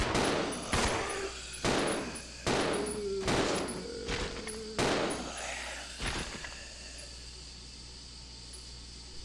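Gunfire in Resident Evil 0: about seven or eight loud, sharp shots come in an uneven rhythm over steady background ambience, then fade into a lingering tail.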